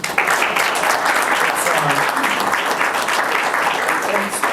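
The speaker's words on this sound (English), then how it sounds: "let's give them a round of applause" An audience applauds a panel at a university equine program speaker series, a steady, fairly close burst of clapping that lasts throughout, with some voices audible beneath it.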